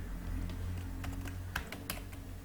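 Typing on a computer keyboard, a handful of quick, faint key clicks in a short run over a low steady background hum.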